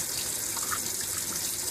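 Bathwater gushes steadily out of an opened tub drain during a silkie chicken's bath, a constant close rushing wash with no pauses.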